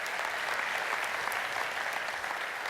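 Audience applause for the band at the AppNexus Summit 2017 conference, a dense, steady wash of many hands clapping that holds at an even level throughout, with no voices over it.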